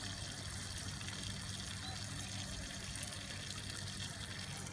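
Hot sparge water pours into a beer brewing vessel during a lager brew day, a steady, continuous rushing trickle that stays even and fairly close throughout with no talking.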